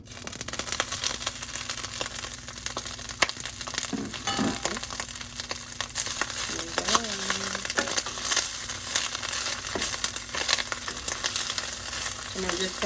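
Broccoli frying in hot olive oil in a pan on medium-high heat, giving a steady close sizzle and crackle throughout, with occasional scrapes and stirring clinks.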